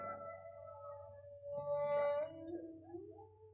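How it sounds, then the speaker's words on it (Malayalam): Dogs howl somewhere in the distance, long sustained wavering tones rising and falling, faint and soft against a quiet night backdrop, with no voices. "എവിടൊക്കെയോ പട്ടികൾ ഓലിയിടണു."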